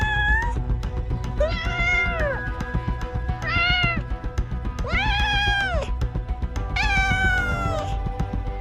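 A cat meows repeatedly, four or five drawn-out, rising-and-falling cries spaced a second or two apart over a low background rumble.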